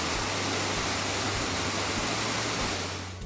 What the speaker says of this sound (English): The Eternal Flame Falls Valley is an iconic and unusual waterfall